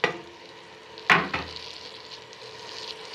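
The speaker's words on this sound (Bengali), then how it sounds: "এখন আমার পেঁয়াজটা ভাজা হয়ে গেছে, এখন আমি দিয়ে দেব রসুন বাটা, বাদাম বাটা, আদা বাটা, পেঁয়াজ বাটা" Garlic, peanut, ginger and onion pastes hit hot oil over already fried onions for a goat head curry, giving a sharp burst of sizzling and a stir, then a softer steady crackle continues.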